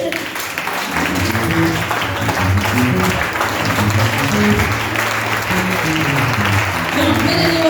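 A church congregation claps and cheers to acclaim the Lord during a French-language worship service, with loud sustained applause filling the room alongside sung or shouted voices and a musical tone underneath.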